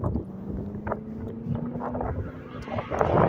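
Strong wind buffets the microphone outdoors in Stockbridge, Georgia during a winter snowstorm night walk, a steady broadband rush with gusts that swell louder toward the end.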